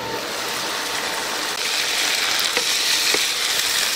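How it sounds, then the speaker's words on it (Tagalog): A sauce cooks down in a pan with cumin seed and sugar, giving a steady close sizzle and bubbling that grows a little louder midway, with a few faint clinks and no talk. "Lutuin lang natin hanggang sa ma-reduce yung kanyang liquid."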